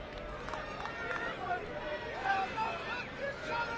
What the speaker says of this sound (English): the longer it stays 1-0, the antsier the crowd is going to be. We're starting to hear a little bit of that